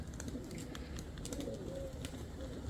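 Pigeons coo softly in a rooftop loft or dovecote, low murmuring calls running under steady background hum and scattered faint clicks.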